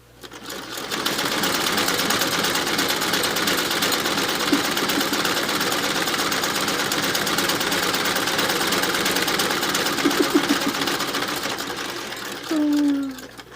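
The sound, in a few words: hand-cranked sewing machine sewing quilt pieces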